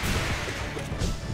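A nail strike lands during a Hollow Knight boss fight, a sharp slashing whoosh and impact buried in dense, loud game sound effects and music.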